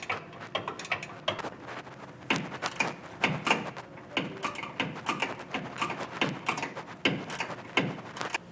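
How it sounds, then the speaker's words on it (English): A 9/16 ratcheting wrench slowly snugs down bolts while Air Lift LoadLifter 5000 rear air helper springs are installed. Close, steady bursts of ratchet clicks repeat through the whole stretch with no talking. "I highly recommend getting a ratcheting wrench, a 9/16, and you can just kind of sit there and slowly snug those down."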